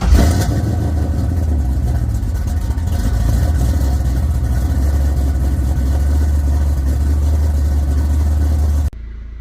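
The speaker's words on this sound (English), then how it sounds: "how about a cold start clip and then let's go for a drive" A car engine runs steadily after a cold start, loud and close with a strong low rumble throughout, cutting off abruptly near the end.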